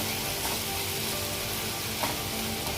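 Ginger garlic paste sautéing with tomatoes in a pan for paneer bhurji, a soft, steady close sizzle heard alone without speech.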